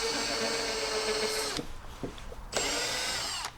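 A power drill fitted with a very small bit bores a hole for a boomerang build, whining steadily and loudly for about a second and a half, pausing briefly, then whirring up again for the final second.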